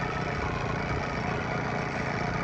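An Evinrude/Johnson 9.9–15 hp outboard motor idles at its lowest throttle setting, giving a steady, continuous low mechanical drone with no speech.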